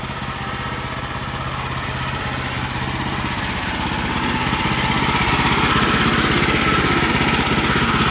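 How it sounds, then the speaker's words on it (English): A portable sawmill engine idles with its clutch disengaged, putting out a steady, loud mechanical drone that swells slightly partway through, with no talking. "You can leave this idle. It disengages the clutch right here."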